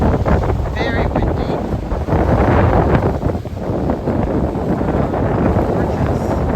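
Strong wind buffets the microphone at a rocky bay in Kissamos, Crete, with rough water churning below, a loud continuous roar close up and no one speaking.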